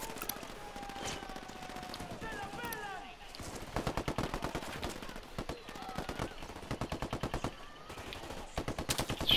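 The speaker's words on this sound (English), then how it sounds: "Taking shots." Gunfire from the video game Ghost Recon Wildlands in a firefight, with rapid automatic bursts and scattered single shots, fairly loud and steady across the whole stretch, with occasional game sounds between volleys.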